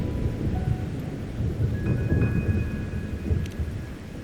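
Steady rain and a deep thunderstorm rumble from the video game Wuthering Waves, a dense continuous wash throughout with no talk over it.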